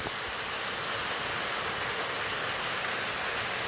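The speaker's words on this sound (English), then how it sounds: "Here's a nice little waterfall." A small waterfall beside a rail trail near Pine Creek pours in a steady, dense broadband rush, close and continuous without pause for under four seconds.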